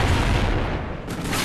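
A frag grenade goes off in a first-person shooter game, a loud low boom that rolls on through the whole moment without distinct separate hits.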